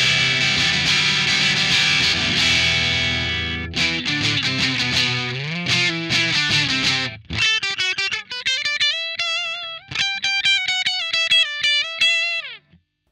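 Electric guitar played through a Free The Tone Iron Forest distortion pedal, first with gain at zero and then turned up slightly. Sustained distorted chords give way to picked single notes and short phrases, loud and clear with no talking.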